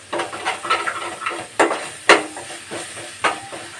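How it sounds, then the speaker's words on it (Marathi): Ginger garlic paste sautés in a pan for restaurant-style paneer masala, with a crackling sizzle and several distinct spatula strokes scraping and tapping close by. "आलं आणि लसूण छान सुगंध येईपर्यंत पण असं परतून घेऊया"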